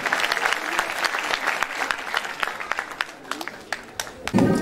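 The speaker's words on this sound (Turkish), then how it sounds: "biz de sizleri alkışlıyoruz gerçekten" Audience applause fills a hall at a Turkish folk music choir's spring concert, a dense steady patter of many hands lasting several seconds, with a brief voice rising near the end.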